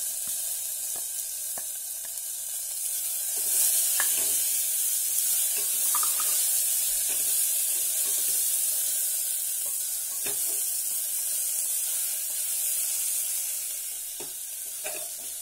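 Large onions frying and stirred in a pan with masala paste for zeeraga samba masala rice, a steady loud sizzle with scraping stirs and sharp clinks of a spoon against the pan throughout.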